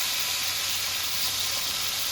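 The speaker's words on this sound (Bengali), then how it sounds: "বোয়াল মাছের মতো রিঠে মাছও ভাজতে গেলে ফুটে" Rita fish fries in hot oil in a home kitchen, giving a steady, bright sizzling hiss with fine spattering that runs unbroken and fairly close, with no voices.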